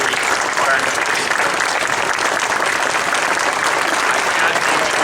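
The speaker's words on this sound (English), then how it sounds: "I'd like you all to stand up, and I want to give you applause" Loud, dense applause from a standing crowd at a window dedication ceremony on Main Street USA, continuous and close throughout.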